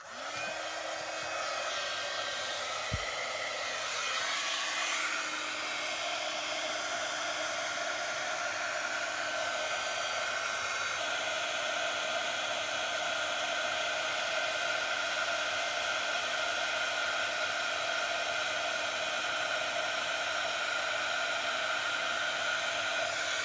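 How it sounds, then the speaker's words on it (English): Heat gun blowing steadily onto embossing powder on a card, a continuous loud whirring rush with a high whine that runs without a break from start to finish, with no voices. "So I'm going to use my heat gun, and it will get a bit noisy."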